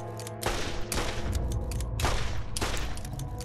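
Rapid, loud gunfire bursts in Borderlands as rakk are shot down, dense crackling volleys repeating in several waves over a steady background din, with no talking.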